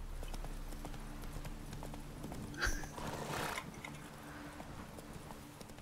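Rhythmic clip-clop of horse hooves at a steady trot in The Witcher 3, with a brief whinny midway; game-like and fairly quiet throughout.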